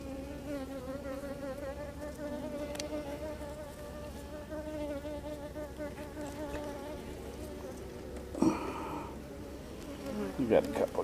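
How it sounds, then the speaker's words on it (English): Honey bees buzz continuously around an opened hive, a close, steady droning hum with a few individual bees darting nearer, plus brief rustling handling sounds toward the end. "We've got a couple of guard bees that are not happy about me being in here"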